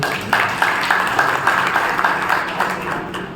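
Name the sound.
audience applauding for themselves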